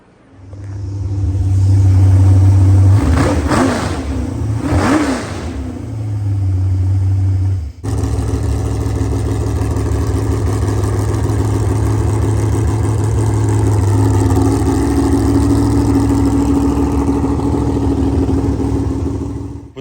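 A freshly rebuilt 5.3 LS engine in a jet boat drones steadily throughout, loud and close, with low rumbling tones and a brief dip before the motor settles into continuous running.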